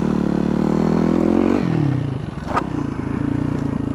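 A motorcycle on a dirt trail holds a steady, close engine drone that drops away partway through, followed by a single sharp knock and scrape as it rides over a rock before the engine note settles again.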